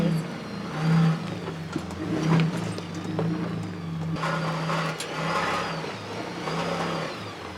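A stuck off-road vehicle's back passenger tire spins while the engine revs in steady, loud surges, a low droning growl rising and falling over several seconds on a high desert canyon trail, with no talking.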